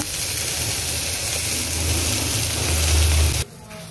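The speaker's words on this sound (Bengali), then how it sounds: "এইভাবে আমি সবকটা আস্তে আস্তে ভেজে নেব" Chicken shashlik skewers fry in a pan with a loud, steady sizzle that fills the space, then cuts off abruptly near the end, leaving a low hiss.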